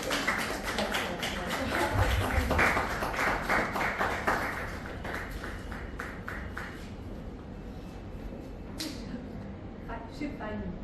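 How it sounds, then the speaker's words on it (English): People at a summer interns' farewell clap for a departing intern, a steady burst of close, lively applause that fades after a few seconds, with chatter and voices around it. "Can we just clap for her?"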